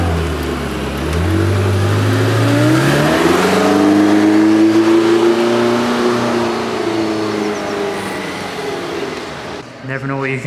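A Ferrari SP3 Daytona revving in an underground parking lot, its engine note climbing from a low rumble into a sustained high rev over several seconds before dropping off, loud and close with echoing reverberation, while voices talk nearby.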